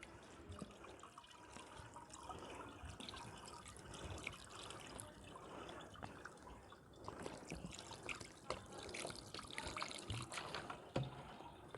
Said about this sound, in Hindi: ऐसे कर कर के हमने इसके ऊपर पानी डालना है ताकि इसके अंदर से जो लीमू का रस होगा वो निकल जाए